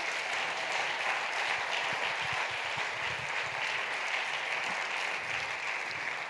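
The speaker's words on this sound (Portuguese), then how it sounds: "Dê uma salva de palmas a Jesus." Worshippers at a church service applaud Jesus, a steady, even wash of many hands clapping heard from a distance, continuous and fairly soft for the whole stretch.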